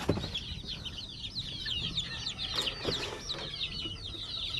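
Newly hatched shamo, aseel and native chicks in a brooder, peeping rapidly and constantly in a high chorus, with faint shuffling and scratching underneath, no talking.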